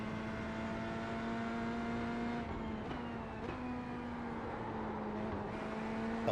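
Race car engine in the iRacing sim holding a steady high drone with harmonic tones, dipping briefly and lurching as traction control cuts in, loud and continuous throughout.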